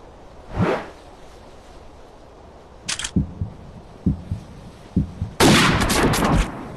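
In the mobile deer-hunting game Hunting Sniper, a whoosh and a short click lead into a few muffled heartbeat-like thumps. A loud sniper rifle blast then rings out and trails off.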